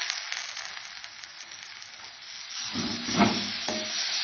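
Coconut and jaggery modak filling sautés in a pan with a soft, steady sizzle, and a brief louder burst of stirring and frying comes near the end.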